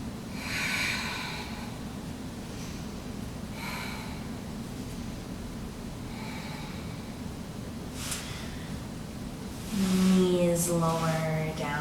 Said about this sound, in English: You have 3 breaths.